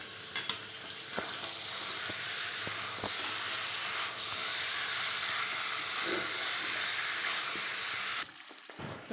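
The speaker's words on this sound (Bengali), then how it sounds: "গ্যাসটা বাড়িয়ে দিলাম, দিয়ে ভালোভাবে চিকেনটাকে কষিয়ে নেব।" Chicken pieces frying over a turned-up gas flame give a steady, close sizzle and hiss with a few stirring clacks, running for most of the stretch before dropping away at the end.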